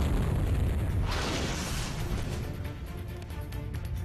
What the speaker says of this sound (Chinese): 对衡阳守军的阵地进行地毯式轰炸